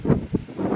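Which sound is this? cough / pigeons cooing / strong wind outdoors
strong wind outdoors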